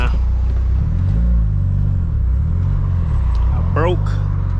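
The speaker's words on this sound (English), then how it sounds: "EVO exhaust noises" A Mitsubishi Lancer Evolution 8 running a LINK ECU swap rumbles steadily at close range, its exhaust note rising and falling in low waves with a quick rev flare near the end.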